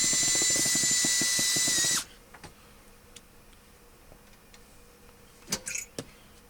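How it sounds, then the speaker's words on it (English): A power drill drilling screw holes for a security camera install whines loudly at a steady high pitch for about two seconds, then stops, leaving scattered faint clicks and taps. "drill the other holes and put the other screws up"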